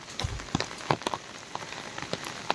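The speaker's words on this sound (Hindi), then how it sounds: "ये भी भीग रहे हैं बारिश में, बहुत तेज़ बारिश हो रही है अभी भी।" Heavy monsoon rain falls steadily in a hill area, with close individual drops tapping and pattering on a nearby surface over a constant wash.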